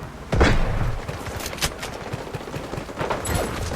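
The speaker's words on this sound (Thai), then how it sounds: "เรายิงดักไว้ก่อน" AKM rifle fire in the Delta Force Mobile game comes as a dense barrage of close, loud shots in quick bursts, with distant gunfire and booms mixed in.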